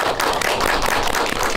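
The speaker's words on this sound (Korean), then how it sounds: "감독님께 박수 부탁드립니다." Audience applause for a film director at a Korean movie talk event, a loud, dense wash of many hands clapping continuously throughout, heard close by.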